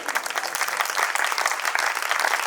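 A crowd claps for a Hindi poet during a live poetry recital, a loud, continuous burst of applause with sharp, quick claps that keeps up without pause.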